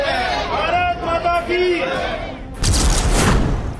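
A crowd of people returning from Iran shouts the slogan Hindustan Zindabad outside Delhi airport, with loud overlapping voices chanting in bursts, then a roaring surge of cheering and noise.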